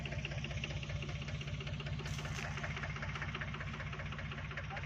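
A tractor engine idling in a field, a steady rhythmic low chugging and knocking with constant mechanical rumble, continuous and even in level, with no talking.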